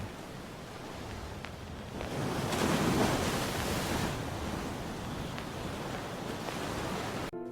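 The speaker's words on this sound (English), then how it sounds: "by the sounding sea." Sea waves wash on a shore in a steady, loud roar of surf that swells in the middle and then settles, with a wind-like hiss and no voices.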